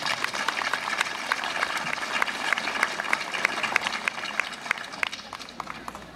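Audience applause at a book promotion, steady dense clapping from a small indoor crowd, sharp individual claps standing out throughout at moderate level.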